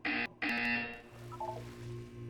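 A loud test-chamber buzzer from the video game Portal 2 sounds in two harsh, sustained bursts, a short one then a longer one, followed by a quieter tonal hum and soft electronic blips.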